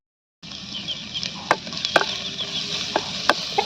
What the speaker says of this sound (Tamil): தாளிக்கிறதுக்கு வெங்காயம் 3 வெங்காயம் போட்டுருக்குறேன். மிளகாய் 2 மிளகாய் போட்டுக்கலாம்.